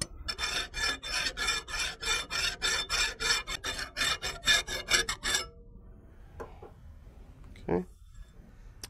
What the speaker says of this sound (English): So we're going to take a fine file